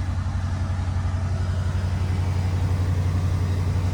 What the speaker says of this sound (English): the town car did start up